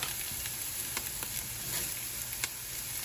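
Ginger chili paste sizzles in a hot pan while cooking upma, a steady close frying hiss with scattered small pops and crackles.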